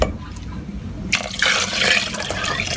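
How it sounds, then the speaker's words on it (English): Water splashes and pours steadily into an electric pressure cooker pot with chicken, a bubbling, sloshing stream starting about a second in and continuing to the end. "I'm going to add some more water."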